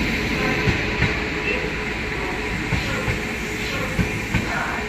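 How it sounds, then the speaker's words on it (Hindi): The Lucknow Swarna Shatabdi Express, hauled by a WP7 locomotive, pulls into a station with a loud steady rumble and periodic wheel clacks over rail joints, close by throughout. "ये आ चुकी है अपनी लखनऊ स्वर्ण शताब्दी एक्सप्रेस WP7 गाजियाबाद सेट का।"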